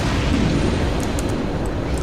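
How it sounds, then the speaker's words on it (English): A giant explosion booms in a space-combat game as a carrier fleet engagement plays out. It is a dense, rumbling low roar that sustains evenly for two seconds, with no voices present. "Giant explosion."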